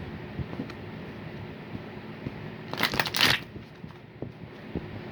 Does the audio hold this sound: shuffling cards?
yes